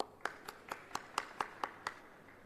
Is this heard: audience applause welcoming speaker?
yes